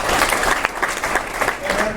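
An audience at a basketball kickoff luncheon claps during player introductions, a short burst of dense, steady applause heard close.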